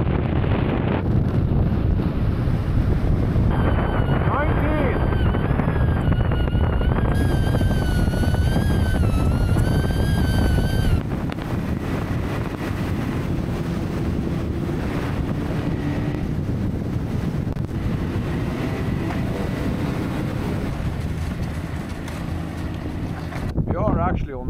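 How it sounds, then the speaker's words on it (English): Strong wind buffets the microphone out on the water on a fishing trip, a loud continuous roar with gusts, while people talk faintly underneath. "Because it's so windy all over."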